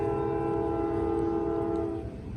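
A CSX freight train sounds its horn in sustained, loud blasts while approaching, with the rumble of the train beneath and the horn fading slightly near the end.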